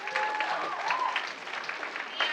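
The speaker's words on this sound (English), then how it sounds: "a huge round of applause" Brief, fairly faint applause from an audience at a school Writers Week event, a light patter of clapping with a voice audible through it.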